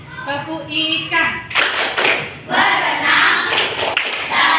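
Young pupils in a classroom performing the Tepuk ikan clap chant, several bursts of sharp group hand claps punctuating their loud unison chanting voices.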